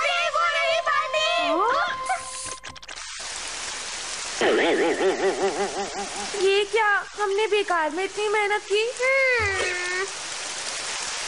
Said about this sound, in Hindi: बारिश को बंद कर दो।